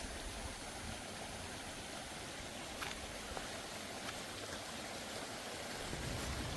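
A flowing stream near the tribal village of China Katragadda on the Chintapalli ghat road, the water that feeds the fields and is taken for drinking; a steady, even rush of water continues throughout with no talk.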